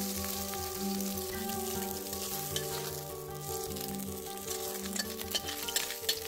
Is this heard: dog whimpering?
no